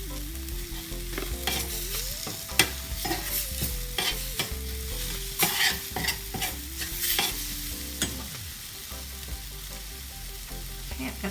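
Minced meat sizzles in a frying pan while a utensil scrapes and stirs it in repeated strokes, with a steady hum running underneath and no talking.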